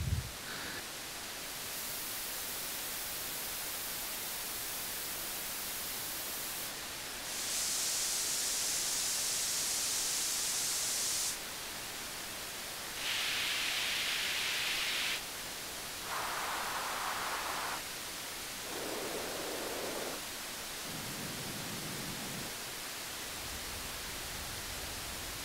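Constant white noise through a Music Thing Modular Graphic EQ, its tone shifting in steps as individual bands are boosted one after another, moving from bright hiss down to low rumble.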